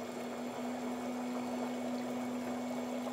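Water from a Conair Waterfall foot pedicure spa runs steadily into the basin, a constant close pouring and trickling wash with a steady motor hum beneath it.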